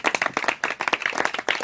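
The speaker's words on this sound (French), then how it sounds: "on nous applaudit puissant." Worshippers in a church congregation clapping in quick uneven bursts, close and sharp hand claps with brief gaps, a short lively round with no speech over it.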